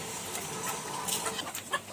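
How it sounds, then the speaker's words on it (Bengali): Farm chickens cluck softly in a few short, scattered calls over a steady background hiss, faint and somewhat distant, with no talking. "তো মুরগিগুলোকে মোটামুটি খাবার দাবার দিয়ে দিয়েছি"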